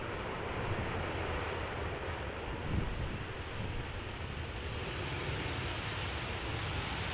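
An airplane lands at Amsterdam Schiphol Airport in a crosswind, a steady, broad roar of engines and rushing wind heard from a distance with no voices.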